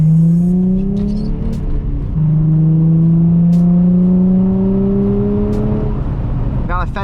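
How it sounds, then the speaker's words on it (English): A Nissan 350Z cruises along a street on a weekday afternoon, its engine droning steadily with rising and falling pitch through gear changes, heard close from inside the cabin, with brief background noises. "So we're back in the Z, we're driving around."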